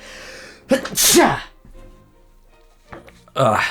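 Loud, close human sneezes, one sharp burst near the start and another at the end, with quieter breathy sounds between them.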